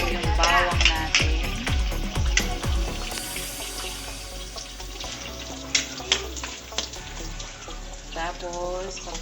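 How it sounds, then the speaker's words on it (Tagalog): Garlic sautéing in leftover meat-frying fat in a pan for a Kapampangan pinakbet, a steady close sizzle with clattering stirring and scraping at the start, then occasional utensil clicks under continuous frying noise. "Dito na po tayo manggigisa sa pinag-prituhan po ng karne."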